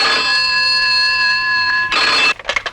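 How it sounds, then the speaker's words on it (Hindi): A telephone rings with a steady electronic tone for about two seconds, then breaks into a brief burst of clattering bell pulses. "हाँ सर आपका फोन"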